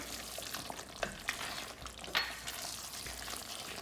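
Cilantro being stirred into dum aloo in a pan, with a soft steady sizzle and a few light scraping clicks of the spoon at close range, no voices.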